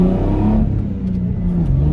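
A car on a cheap drift build pulls hard, its engine loud and close as the revs climb, dip briefly, then rise again.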